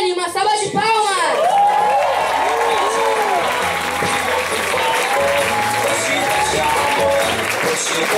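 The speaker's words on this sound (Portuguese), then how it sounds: "Com vocês, Jean Redriani, uma salva de palmas!" Audience applause and cheering for a judge being introduced at a live show, continuous crowd clapping under loud, energetic announcer talk and music-like tones.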